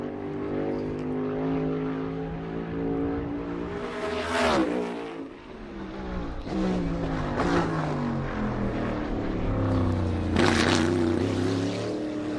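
Race car engines roar through a qualifying lap at the 2022 Toyota/Save Mart 350, with rising and falling harmonic whine as the car downshifts and accelerates through the esses, continuous and loud.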